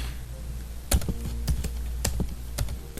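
Computer keyboard typing comes as a handful of sharp, separate keystrokes at an uneven pace, close to the microphone in a quiet room with a low background hum.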